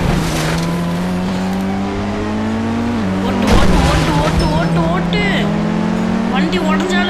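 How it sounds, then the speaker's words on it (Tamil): Engine drone and screeching tires from a vehicle being driven hard and crashing in the Indian Bikes 3D driving video game, loud and steady with bursts of impact and skidding, joined by a voice talking over it. "வண்டி உடஞ்சாலும் பரவாயில்ல, இடிஞ்சாலும் பரவாயில்ல, ஓட்டு ஓட்டு ஓட்டு ஓட்டு"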